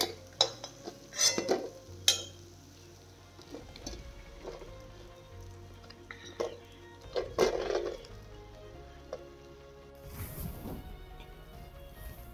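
Fried medu vadas are lifted out onto a steel plate, with scattered clinks of a slotted spoon and metal, scraping and light rustles, and a faint sizzle of oil between them.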